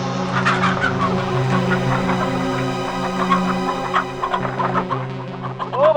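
Poultry on a farm keep up a dense, continuous chorus of clucking and gobbling calls, loud and close, with no talk.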